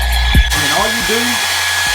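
Hair dryer blowing steadily to dry freshly washed paint brushes, a continuous loud whoosh with a thump and a shift in tone as the setting changes; a voice talks faintly beneath it.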